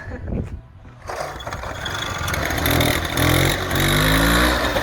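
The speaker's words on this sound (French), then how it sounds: "Du coup, elle démarre au quart de tour, comme vous pouvez voir." A vintage Peugeot 102 KT moped engine catches about a second in and settles into a close, steady buzzing run with slight revving.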